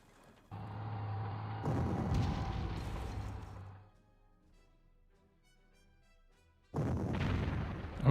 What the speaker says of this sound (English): Or I can just pound them from afar with our own artillery, I suppose, if I can get enough of it in range.